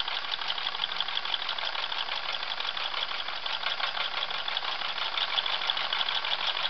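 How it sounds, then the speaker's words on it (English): A homemade Stirling engine running off heat, giving a steady, continuous mechanical whir and rattle with a fast, even rhythm, close and moderately loud throughout with no talking. "is a stirling engine in action"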